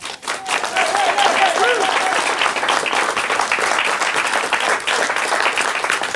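A studio audience on a 1993 British TV chat show applauds competition winners, with sustained dense clapping throughout and brief cheers and a few voices underneath.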